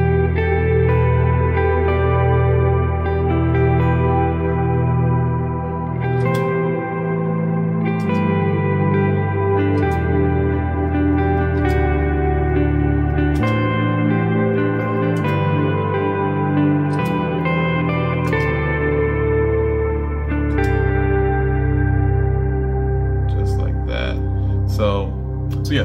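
Sustained electric guitar chords through a Quad Cortex with heavy reverb, ringing and washing into each other over a steady low bass tone, loud throughout.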